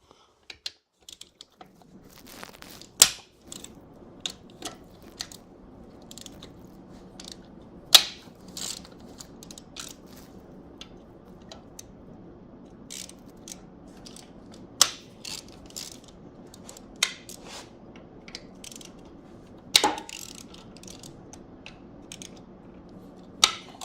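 A ratchet working 8mm bolts loose from a bracket on a 1.8T engine during a teardown: scattered sharp clicks and clacks over a low, quiet background hum, irregular and close, with no talking.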